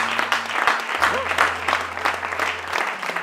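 A church congregation breaks into loud, sustained clapping and cheering, dense and close, with a preacher's voice and an organ or keyboard chord sounding under the applause.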